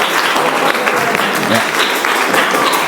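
Classroom audience clapping on cue during a religious education teaching session, a dense continuous patter of many hands at close range with a brief voice over it.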